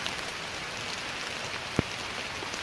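Steady light rain falling on a surface, a dense soft patter with one brief louder drip standing out partway through, no voices.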